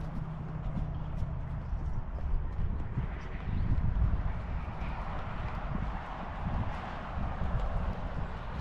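A horse being worked by its rider in a round pen gives a steady, mid-distance clip-clop of hooves, with low rumbling background noise and no talk.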